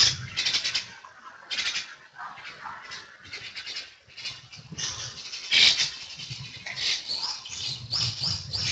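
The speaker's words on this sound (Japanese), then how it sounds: "ここは鳥が多いです。" Many birds call outdoors in the morning, with a steady run of chirps and twitters, some close and loud, others softer, overlapping in irregular bursts.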